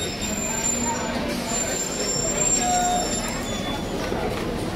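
A heavy local train runs past under a stormy, darkening sky, its steady rumble and rail noise continuous with faint high squeals.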